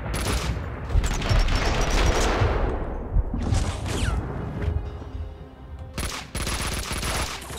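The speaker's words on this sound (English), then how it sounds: "You're shooting?" Gunfire in Max Payne 2: loud, dense bursts of shots and automatic fire crash in several waves, with brief lulls between volleys and no talking.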